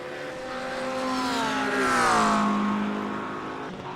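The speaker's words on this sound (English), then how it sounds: "Mike Marshall in the Porsche, Mike Dalling in the McLaren" Porsche and McLaren GT3 race cars at the Red Bull Ring sweep past, engine notes rising and falling in pitch as the sound swells to a peak mid-clip and fades, heard from a distance without talk.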